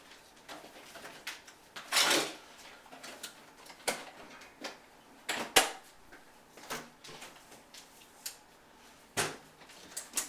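Scattered clanks, knocks and sliding thumps of pans and drawers being moved around in a kitchen while searching for a frying pan, irregular and close, with no talking.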